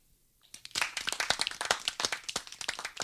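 Small group claps in loose, overlapping rhythm with sharp finger snaps mixed in, starting abruptly after a quiet moment and continuing steadily at close range.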